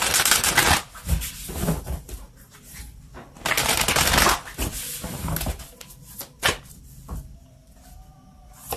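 Oracle cards are shuffled and drawn by hand, giving several loud riffling bursts separated by quieter rustles and a few soft taps, close and alone.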